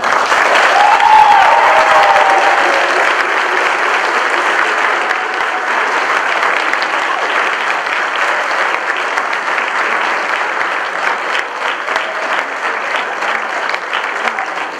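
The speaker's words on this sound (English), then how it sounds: "Would everyone now please join me in congratulating our students with a round of applause." Sustained applause from a large crowd at a school honor society induction ceremony, loud and steady throughout, with faint cheering early on.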